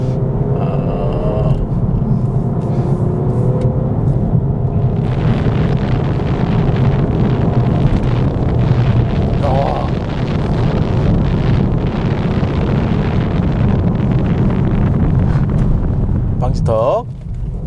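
A Peugeot 308 GT with a 1.5-litre diesel engine accelerates hard through paddle-shifted gears, a loud steady engine drone and road rumble with wind buffeting and brief dips at each shift.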